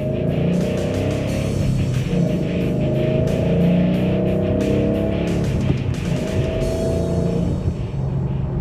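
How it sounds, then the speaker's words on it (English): A 2011-2014 Ford Mustang with a newly installed short-throw shifter drives on the road, its engine droning loudly and steadily from inside the car, rising and falling with rhythmic surges and gear changes. "take it for a test drive"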